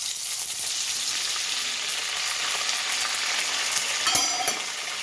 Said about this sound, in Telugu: పచ్చిమిర్చి నూనెలో గోలియాలి.